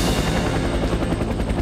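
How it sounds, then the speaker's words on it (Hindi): Steady, loud helicopter rotor thudding with a broad engine roar, continuous and close, no voices. "हेलीकॉप्टर, एक हेलीकॉप्टर, हेलीकॉप्टर।"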